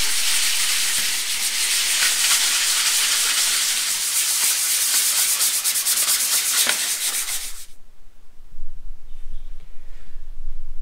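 Rough sanding of planed wood on a Philippine house-building site, a steady loud abrasive rubbing hiss that runs for about seven and a half seconds, then cuts off abruptly, leaving quiet low rumble.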